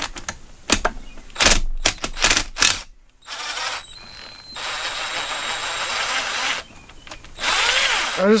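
Impact wrench taking the lower unit bolts off a Mercury 225hp Optimax outboard: sharp rattling hammer bursts, then longer sustained buzzing runs with brief pauses between, loud and close.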